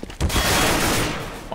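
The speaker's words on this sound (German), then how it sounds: "Schöner Schuss von Fearless dagegen." A Counter-Strike esports match on de_cache has a dense burst of rapid rifle gunfire that fills most of the short moment. It is loud and continuous, with no commentary heard over it.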